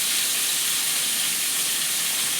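Dal frying in a pan gives a dense, even hiss and sizzle, steady and fairly loud throughout, with no talking.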